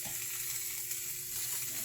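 A whole one-kilo piece deep-frying in oil gives off a loud, continuous, close hiss of bubbling with no pauses.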